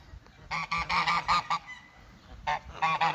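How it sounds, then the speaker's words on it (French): Several loud, close honks from Normandy geese come in quick bursts, pausing briefly before another run of honking. "un parquet d'oies normandes, dont 2 oies couvent"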